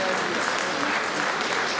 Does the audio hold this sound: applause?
yes